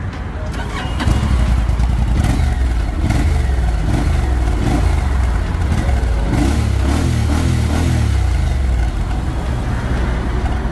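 A Honda NC750 Integra motorcycle with original exhaust revs repeatedly at close range, the exhaust note rising and falling in several loud bursts before settling to a steady idle.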